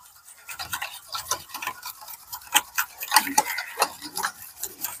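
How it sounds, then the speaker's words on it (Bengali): Bread dough ingredients with dry yeast being mixed in a bowl, giving a quick run of close, irregular scraping and tapping strokes throughout, with no talking. "এবারে সবকিছু আমি খুব ভালো করে একটু মিশিয়ে নেব।"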